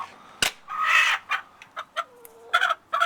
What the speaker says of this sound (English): You can hear my chicken. She must be laying or has an opinion.